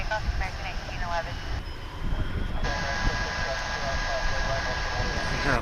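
An American Airlines airliner taking off at Dallas/Fort Worth International Airport, a loud continuous jet engine roar with rising whine tones, heard from nearby and partly mixed with radio chatter.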